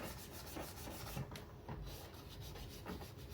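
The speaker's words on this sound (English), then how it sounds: "I think we'll go ahead and shine up the tracks before we set them up." Grimy Hornby model train track is rubbed clean with light pressure, making a close, continuous scratchy rubbing in short repeated strokes, soft and steady, with no voices.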